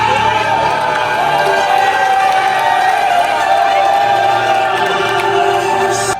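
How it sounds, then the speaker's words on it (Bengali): Spectators at a CF Moto bike stunt show on a field in Narsingdi fill the air with a dense, continuous roar of cheering, shouting and clapping, loud and steady throughout with voices blending into the crowd noise. "দর্শকরা তালিয়ে আর শাউটে ভরিয়ে দিল পুরো মাঠ"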